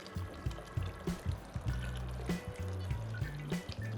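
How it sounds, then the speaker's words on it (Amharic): About a litre of water is poured into a pot of soup, making a faint, uneven trickling and splashing over several seconds, with low tonal hums underneath. "1 ሊትር ያክል ውሃ የጨመርኩበት።"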